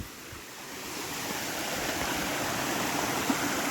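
Stream water flowing at Kiribathgala rock, a steady, full rushing wash that runs unbroken throughout, fairly close, with no voices.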